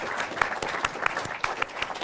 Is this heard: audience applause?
yes